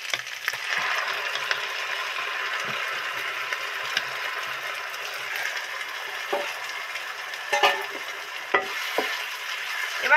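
Grated tomato sizzles and fries in oil with onion and ginger-garlic paste for a duck egg curry, a steady close hiss with occasional clinks and scrapes of stirring.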